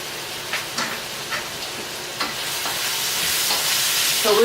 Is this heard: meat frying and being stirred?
yes